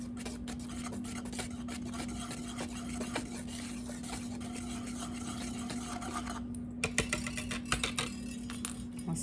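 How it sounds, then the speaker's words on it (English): A whisk scrapes and taps steadily through flour, baking powder and salt in a bowl, a soft continuous rasping stir close by, with a few louder clinks near the end and a faint background hum. "You're just going to whisk that until it's"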